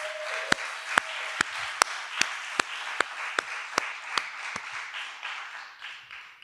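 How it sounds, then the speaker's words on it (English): An audience at a keynote event claps in a slow, regular rhythm, with sharp distinct claps about every half second over a soft room wash, fairly quiet and fading toward the end. "Let's give him another round of applause."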